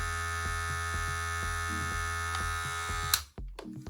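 Kiepe Rivale hair clipper running steadily at about 5,000 RPM, a close, even electric buzz with a faint regular ticking, then switched off and followed by a few handling knocks.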